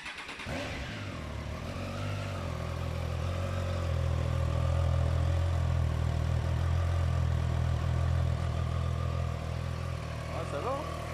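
An Aprilia RS 660 motorcycle engine idles nearby with a steady low rumble, a brief blip opening it before it settles into an even drone that holds for the whole stretch.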